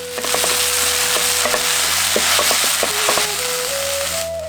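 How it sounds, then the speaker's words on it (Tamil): Ginger garlic paste and onions frying in oil, a constant close sizzle with repeated clinks and scrapes of a spoon stirring against the pan. "2 தேக்கரண்டி இஞ்சி பூண்டு விழுதையும் சேர்த்து நல்லா வதக்கிடுவோம்."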